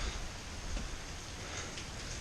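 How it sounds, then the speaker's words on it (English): A heavy rain downpour pours outside, a dense, steady wash of hiss and patter with no pauses and no voices. "Yep, still raining."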